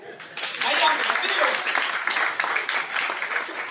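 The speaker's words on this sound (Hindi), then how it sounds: "ताली हो जाए।" An audience at a motivational talk claps together in a steady, dense wash of applause that starts abruptly and holds at an even level throughout.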